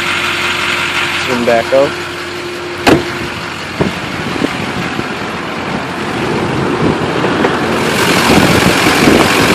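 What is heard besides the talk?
Chevrolet K2500 6.6L Duramax diesel engine idling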